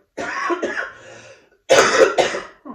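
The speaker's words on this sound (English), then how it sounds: "Excuse me, coughing away there." Two rough, close coughing bursts separated by a brief pause, the second louder and harsher than the first.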